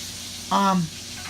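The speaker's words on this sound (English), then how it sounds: "If you hear, right now I'm cooking my burger" A burger with Italian and beef sausage fries in a pan, a steady, close hiss running underneath a brief, louder tonal burst in the middle of the short stretch.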